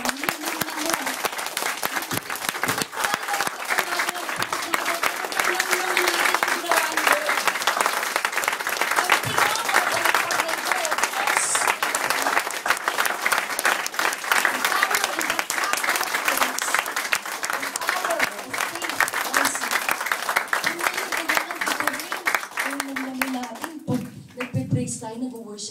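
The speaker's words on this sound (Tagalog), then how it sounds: "Bigay nga pinakamalakas na palakpak ulit sa Panginoon." Loud, sustained applause from a worship retreat audience fills the whole stretch, dense and continuous, with crowd voices mixed in before it thins out at the end.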